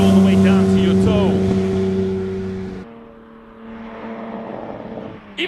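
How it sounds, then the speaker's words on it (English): Classic car with a 5.7 liter V8 idling at a Speed Classic Cape Town event, a steady, near, low rumbling burble that dips partway through, then picks up again. "You can listen to the V8 how it idles."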